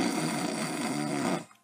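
A person imitates a snoring sound with their voice, a single loud, rough, rasping drawn-out breath that holds for more than a second, then cuts off abruptly.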